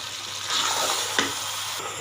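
Spinach and mutton being stirred and sautéed in a pot for palak gosht, a steady close sizzle with a spoon scraping through once, and no voices.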